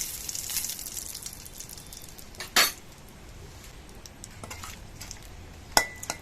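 Bay leaves and dried chillies dropped into hot oil in a wok, a faint sizzle punctuated by a few sharp clinks of utensil against metal.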